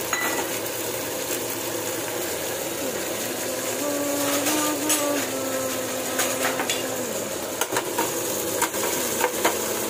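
Tomato is stirred into Maggi noodles frying in a pan, a steady sizzle with intermittent scraping and clinks of a utensil against the pan, plus a faint tonal hum partway through.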